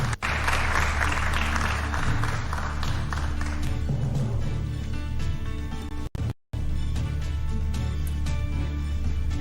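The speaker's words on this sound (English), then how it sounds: "You can give them a round of applause." A crowd claps for an independent candidate taking the stage at the 2022 Nairobi governor debate. The steady, loud applause runs throughout over a constant low hum, broken by one brief dropout partway through.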